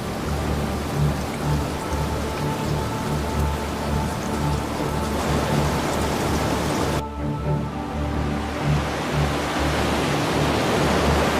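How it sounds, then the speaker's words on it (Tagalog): Steady, dense downburst rain roars continuously, a heavy broadband downpour with no pauses and no voices. "Itinutulak nito ang ulan pababa ng buong puwersa, kaya bigla itong bumabagsak na parang isang higanting alon mula sa langit."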